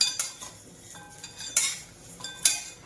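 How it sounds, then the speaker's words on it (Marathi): Metal spoon scraping and clinking against a pan as vermicelli roasts in plenty of ghee, several sharp close taps spaced irregularly over a quiet background. "आपण इकडं शेवई भाजून घेऊया चांगलं तूप टाकून भाजायची"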